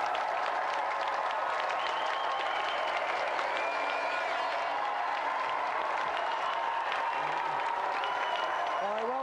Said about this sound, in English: give a round of applause for our volunteer.